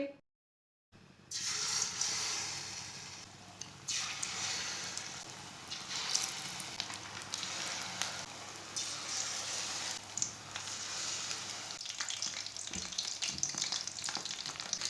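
Capsicum pakoras frying in hot oil, a loud continuous sizzle and crackle close by after a brief silent start, with occasional stirring shifts and no talking.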